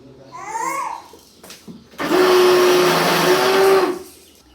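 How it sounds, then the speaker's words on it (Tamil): Mixer grinder (mixie) grinding dried red chillies and spices for a village-style mutton and drumstick curry, starting with a loud steady whine after a moment of child babble and lasting about two seconds close by. "சவுண்டு வருது மிக்ஸி."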